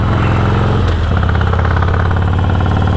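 A motorcycle engine idles steadily nearby, a loud continuous low rumble with a slight shift in its throb partway through.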